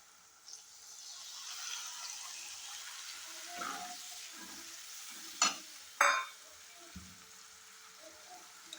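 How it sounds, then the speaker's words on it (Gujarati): Red okra curry with buttermilk stirred in a pan gives soft scraping over a faint sizzle, with a couple of sharper utensil clacks near the end. "આને ઘડીક હલાવતા રહીએ એટલે બરાબરનું આપણું લાલ ભીંડાનું શાક બની જાય"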